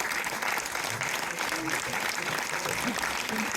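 Sustained clapping from a packed cinema audience at a Gaumont Montpellier premiere screening of "Super bourrés", even and unbroken, with faint voices mixed into the roar.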